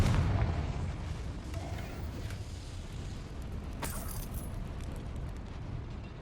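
A Confringo fire spell from the Hogwarts Legacy video game bursts in a sharp explosive crack about four seconds in, over a steady low rumble and scattered clatter of combat effects.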